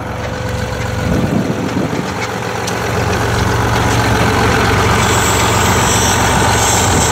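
A 1963 Flxible Fish Bowl bus with a fault traced to an air valve idles with a loud, deep, steady diesel rumble close by, and its engine note rises slightly and holds partway through, with no voices.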